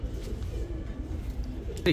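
Pigeons cooing, high-flying Giribaz birds of Damascene and Budapest breeds, soft low murmurs running steadily through a dense, noisy room tone, with a brief sharper call near the end.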